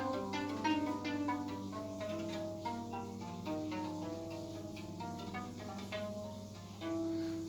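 Bright plucked strings of a double cross-strung harp ring out one after another over a steady low drone, moderately loud and continuous, with a sharper pluck near the end.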